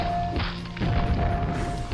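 Grenade explosions in the video game Quake: Scourge of Armagon, two muffled booming thuds with a steady game hum behind them, no talk.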